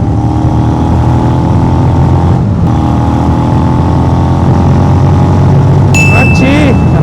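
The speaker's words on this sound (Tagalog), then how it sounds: "Grabe yung exhaust niya, full system, Acra, napaka-crunchy." A Honda X-ADV 750 two-cylinder engine with an Akrapovic full-system exhaust drones loud and steady while riding, with a brief dip mid-way and a short whistle-like tone near the end.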